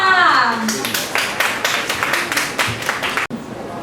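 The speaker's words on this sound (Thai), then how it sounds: "ขอเสียงปรบมือ" Audience applause at a Beautrium beauty store press event, a burst of steady clapping running for several seconds under a voice, then cutting off abruptly near the end.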